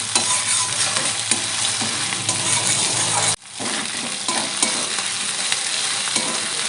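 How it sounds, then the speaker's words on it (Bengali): Ginger and garlic paste fries in hot oil for a spicy fish curry, giving a loud, continuous sizzle with light stirring, briefly dipping midway before surging back. "আদা রসুন ভালো করে ভেজে নেব।"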